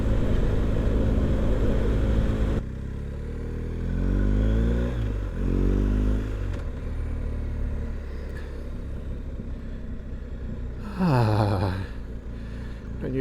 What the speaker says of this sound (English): I feel like the bike's going to stall.